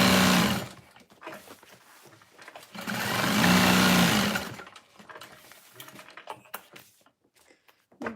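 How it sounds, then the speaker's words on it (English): A sewing machine top-stitches around the top of a fold-over bag in two long whirring bursts with a pause between, followed by short stop-start runs and clicks. "It's easier to top stitch and remember to top stitch, honestly. So I'm just sewing around the top."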